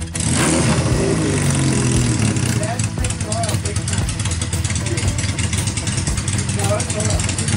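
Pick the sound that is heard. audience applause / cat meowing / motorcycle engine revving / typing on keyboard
motorcycle engine revving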